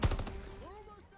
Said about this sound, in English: He's shooting at me though.